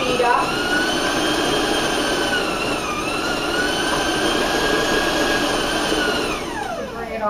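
An electric mixer beats chocolate chip bar batter at a high speed, a loud, steady whirring drone that shifts pitch briefly, then winds down near the end.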